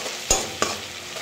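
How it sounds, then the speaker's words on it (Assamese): Fish, potato and tomato fry together in a pan, giving a steady close sizzle with two sharp stirring scrapes early on and no talking. "এতিয়া মই বনাই আছোঁ মাছ, আলু আৰু বিলাহী একেলগতে এনেকৈ দি দিলোঁ।"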